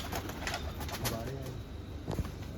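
Domestic pigeons coo softly in a loft, low murmuring calls rising and falling over a steady background hum, with a brief flutter near the end.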